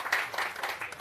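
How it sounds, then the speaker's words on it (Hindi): Dense, continuous clapping from a village-council meeting crowd in Bihar, a steady broadband wash with slight swells, heard alone without speech. "जोरदार ताली राजू जी के लिए।"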